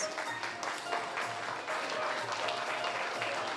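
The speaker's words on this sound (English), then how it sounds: "Please stand and give them a round of applause." A graduation audience applauds the class of 2021, an even, continuous wash of clapping at moderate distance that holds steady for a few seconds with no voices over it.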